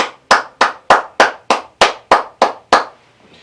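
A church congregation claps in unison: ten sharp, evenly spaced claps in a steady beat, loud and close, followed by a faint fading tail.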